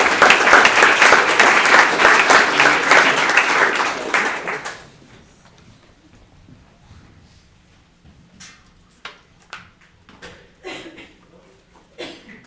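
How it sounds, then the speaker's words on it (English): An audience at a ReactJS developer meetup gives a speaker a round of applause, a loud burst of many hands clapping that fades out after about five seconds, followed by quiet room noise with scattered taps and shuffles. "why don't we give him a round of applause."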